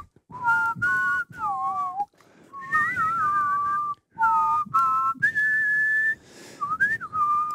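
A person whistles a melodic tune up close in short clear phrases separated by brief pauses, with pitch sliding between notes and no other sound around it.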